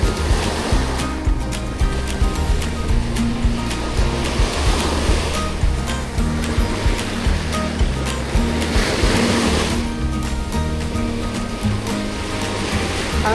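Ocean waves wash onto a beach in Zambales, a loud, continuous surf with rolling surges and a steady roar, no voices over it.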